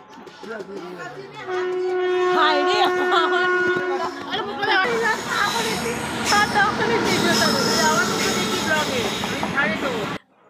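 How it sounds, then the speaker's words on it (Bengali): A local train pulling into Khirai station platform, rising rumble and metallic wheel squeal with sustained tonal screeches, loud and close, over crowd chatter on the platform. "আমাদের খেতে খেতেই আর একটা লোকাল ট্রেন চলে এলো।"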